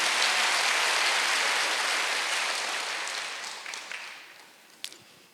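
Church congregation clapping together at a Wednesday worship service, a dense sustained wash of applause that gradually fades over several seconds, ending with a few scattered claps.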